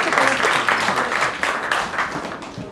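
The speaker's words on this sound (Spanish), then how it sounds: "un aplauso para Delia" An audience at a psychoanalysis and pop-culture lecture claps for the new association president, a steady, fairly loud wash of many hands throughout with no voice on top.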